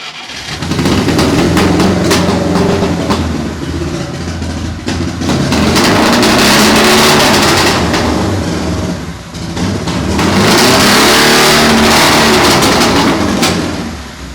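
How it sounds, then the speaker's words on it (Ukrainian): A loud off-road buggy engine cranks and catches, then revs hard in repeated surges, roaring up and settling back between bursts. "Ось так гучно заводиться автомобіль для їзди бездоріжжям Багі"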